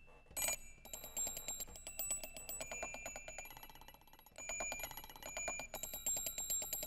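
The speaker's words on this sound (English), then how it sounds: "Children's bells." A toy instrument sample of children's bells from a UVI software suite, bright metallic jingling in rapid, busy repeated hits with a few louder accents, playing alone without any voice.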